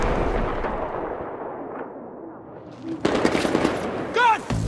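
Sniper gunfire in the military shooter game Battlefield 3, with a low rumbling battle din first and then a burst of sharp cracking shots near the end, a voice briefly rising over the noise.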